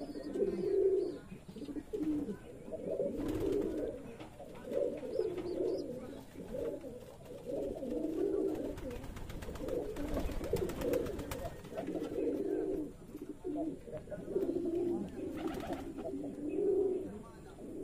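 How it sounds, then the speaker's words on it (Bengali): Pigeons coo in repeated soft, rolling calls at a pigeon farm in Shibganj, Chapainawabganj, with several birds overlapping at moderate distance and faint background noise and rustling throughout. "এই ভিডিওতে আমার কবুতর খামারের সকল কবুতর দেখতে পাবেন।"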